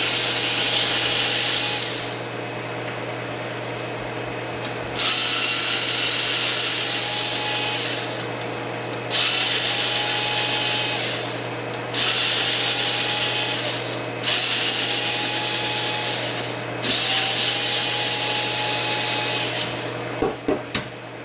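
A power driver removes the bumper screws on an HPI Savage RC truck in about six separate whirring bursts of a few seconds each, with short pauses and small clicks between them, recorded close up.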